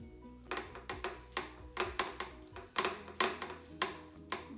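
A pound of ground beef cornbread dressing is pressed into a baking pan, giving a series of soft, close thumps and taps in an irregular rhythm, each about half a second apart, with no talking.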